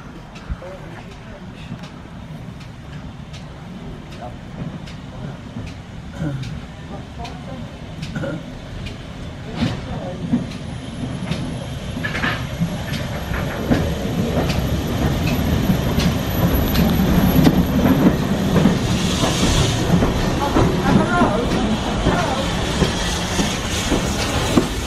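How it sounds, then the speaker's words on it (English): On the West Somerset Railway, a local train draws closer with a rising rumble, clatter and hiss, heard at a distance beneath nearby chatter, with a high whine joining midway. "Is that the sound of the local coming?"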